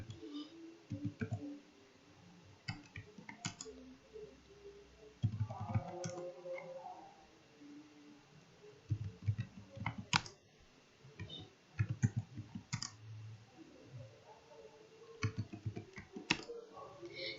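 Soft computer-keyboard typing as a name is entered, with scattered bursts of quiet key clicks separated by pauses in a calm room.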